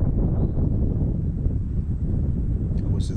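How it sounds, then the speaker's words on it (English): Steady low wind buffets the microphone on an open golf course, a continuous broadband rumble that fills the whole stretch, with a faint brief higher rustle near the end. "I wish this wind would calm down."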